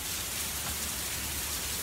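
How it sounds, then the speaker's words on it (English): Pouring rain outside a new home, a steady broadband hiss of heavy rainfall holding at an even level throughout with no voices. "here's the pouring rain view"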